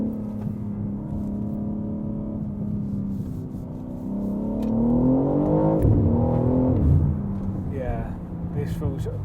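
BMW G80 M3 engine pulling hard while driving, a steady harmonic drone that rises in pitch and grows louder midway, then settles back, heard from inside the car.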